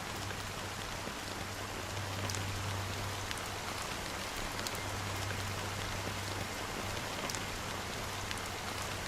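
Steady rain falls in the video game Honkai Star Rail, a constant dense hiss with scattered raindrop ticks over a low hum, continuous and fairly loud throughout.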